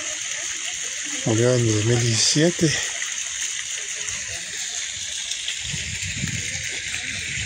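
Water splashes steadily from a fountain at the main entrance of the Panteón de Mezquitán cemetery in Jalisco, Mexico, a continuous hiss running through the whole stretch while someone speaks briefly near the start.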